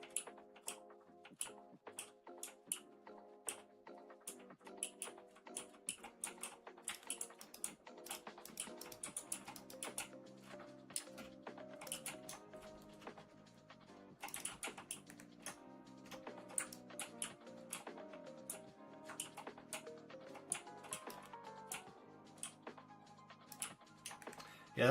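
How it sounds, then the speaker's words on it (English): Loud computer keyboard typing during a live hardcore Minecraft session: a steady, dense stream of sharp key clicks, close and continuous throughout, with no voices. "keyboard is too loud"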